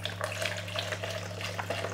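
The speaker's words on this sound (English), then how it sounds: "Then pour your 500 milliliters of distilled white vinegar into the Perfect Prep machine." Distilled white vinegar, 500 millilitres, is poured from a jug into a Tommee Tippee Perfect Prep machine to descale it, making a continuous close splashing pour over a low steady hum, with no talking.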